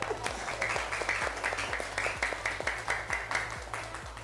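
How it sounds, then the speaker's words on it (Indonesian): A group of primary school children at an elementary school clap together in a quick, steady rhythm, the clapping even and continuous with a faint low hum underneath. "tepuk tangan."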